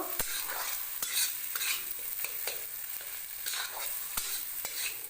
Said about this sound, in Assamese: এতিয়া মই এইখিনি আৰু অলপ সময় ভাজি থাকিব লাগিব।